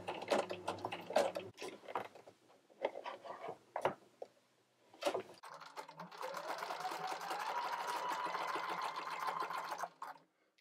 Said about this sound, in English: as I come up to this edge, I'm just going to come in real slow, go one over, and back stitch